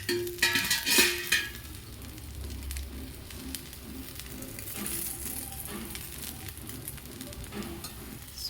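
Oil sizzling steadily under a rice flour dosa cooking in a pan, a soft continuous crackle with a few scraping and stirring clatters at the start, no voices.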